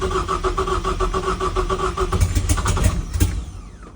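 A BMW E36 with a swapped EcoBoost engine cranks and fires, giving loud, close starter whirring that turns into a rough, rumbling idle before it fades out near the end.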